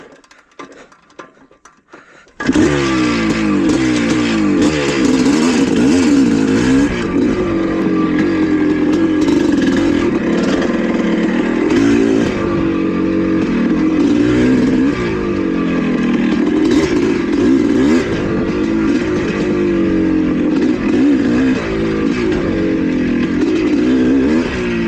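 A 1982 Suzuki RM465 motocross bike runs a practice lap, its engine loud and close after a quiet start, revving and bogging in repeated surges that carry on steadily with no talking.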